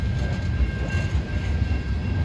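A Norfolk Southern ethanol freight train rolls past nearby with a steady low rumble, continuous wheel and car noise, and a faint high tone running through the pass.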